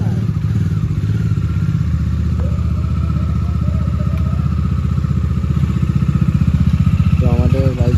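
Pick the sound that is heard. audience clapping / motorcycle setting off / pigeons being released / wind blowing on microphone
motorcycle setting off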